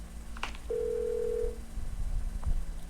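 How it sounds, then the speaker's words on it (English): A telephone in an interactive crime investigation game gives a single steady electronic ring tone lasting under a second, clear and close over a low background hum. "Now can you answer the goddamn phone?"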